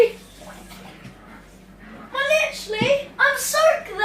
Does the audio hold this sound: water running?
yes